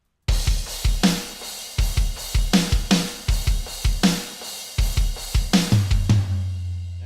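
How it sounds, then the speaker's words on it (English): Drum kit in a heavy rock mix, with punchy kick and snare hits and crashing cymbals played in a steady groove that ends on a ringing final hit. "And the drums sound like this."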